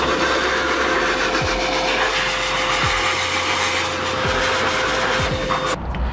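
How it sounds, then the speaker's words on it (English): A vacuum cleaner in blower mode blows dust out of a car engine bay, giving a loud steady whining roar close by with a few scraping bumps and a brief change in pitch near the end. "I turn the vacuum on, and I just blow any dust that I see in my engine bay out the car"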